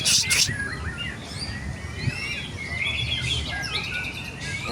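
A young white-rumped shama (murai batu) sings a series of varied whistles, chirps and trills, fairly close and clear over a soft background hum.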